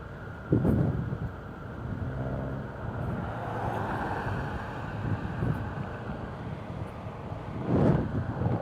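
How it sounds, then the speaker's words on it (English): A car draws up from behind on a road, a soft steady rush of engine and tyre noise under wind buffeting on the microphone, with a couple of brief louder gusts. "there's a car coming up behind me"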